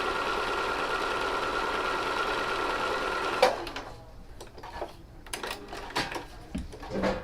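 A home sewing machine stitches quilt strips together with a quarter-inch seam, running in a steady, close whir for a few seconds before stopping, followed by scattered clicks and light handling noises.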